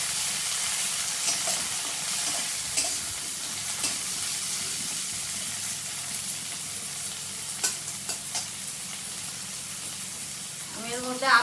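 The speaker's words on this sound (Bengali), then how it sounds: "আর পেঁয়াজটা লাল করে ভাজা হয়ে গেছে, এর মধ্যে আমি টমেটো কুচি দিয়ে দেবো। আর দুটো কাঁচা লঙ্কা দিয়ে দিলাম।" Onion, chopped tomato and green chilies fry in a pan for rui fish jhal, giving a continuous hissing sizzle with occasional stirring scrapes. A louder burst of spattering comes near the end.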